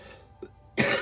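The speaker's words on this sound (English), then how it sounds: "I'm not going to go back and edit the coughing out." A single short cough, close and fairly loud, bursts out after a near-silent stretch with a faint earlier throat sound, during a tarot card reading.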